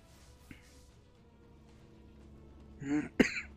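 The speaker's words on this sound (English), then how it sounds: "I go to stream, I start coughing." Two short, rough coughs near the end, close and fairly loud, after a stretch of quiet room tone with a faint click early on.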